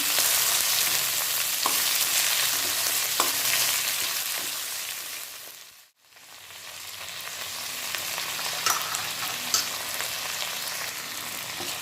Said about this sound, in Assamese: এনেদৰে লৰাই ভাজি ল'ব।